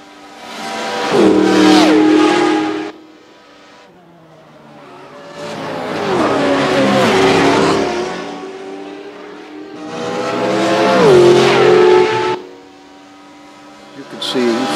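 Race cars in a racing video game roar past in three long surges, engines rising and falling in pitch as they accelerate and fade, with brief quiet gaps between passes.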